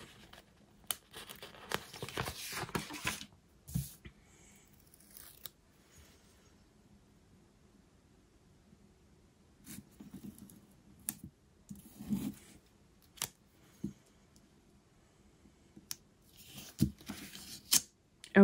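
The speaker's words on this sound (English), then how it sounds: "Oh dear, that ripped the page." Paper tearing and crinkling as a page rips in a disc-bound planner, with scattered clicks and rustles in short bursts separated by quiet stretches, close and fairly soft, no talking.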